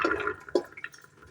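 Soaked chana peas, about 250 grams, tipped into a pressure cooker sitting on a gas stove make a brief, close, wet rattling pour in two quick bursts.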